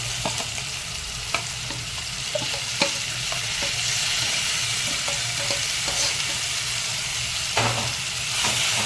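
Ground cucumber paste hits a hot pan for dosakaya pachadi, giving a steady close sizzle and frying hiss with scattered stirring clinks and scrapes throughout, no voices.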